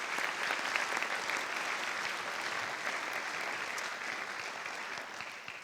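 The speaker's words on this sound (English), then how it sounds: "Round of applause for yourself." Sustained applause from an audience at an AP awards ceremony, steady and dense from start to finish with no pause.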